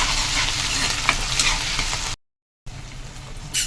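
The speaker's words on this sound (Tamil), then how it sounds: "இப்போ இந்த இஞ்சி பூண்டு பேஸ்ட் வந்து நல்லா வதங்கட்டும்" Ginger garlic paste sizzles and fries in a pan while being stirred, a steady close hiss with light scraping. It drops out to silence for a moment and then resumes.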